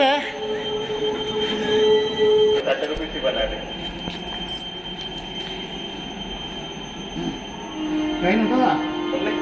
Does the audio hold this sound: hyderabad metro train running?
yes